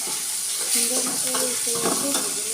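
Onion and spice masala with ginger-garlic paste, green chilli, bay leaf and coriander is stirred and fried in a pan, a close, steady sizzle with soft scraping strokes, no talking.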